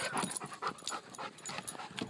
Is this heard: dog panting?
yes